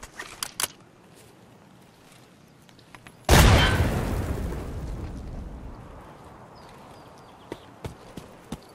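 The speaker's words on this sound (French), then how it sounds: "Petite grenade." A grenade goes off in Escape from Tarkov on the Shoreline map: one sudden loud boom with a long decaying rumble, preceded and followed by sparse soft clicks and footsteps.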